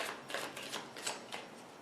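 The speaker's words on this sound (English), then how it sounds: "going to shuffle one more time here." Tarot cards riffle and slap in quick papery bursts, a close shuffling rhythm repeating several times without talk.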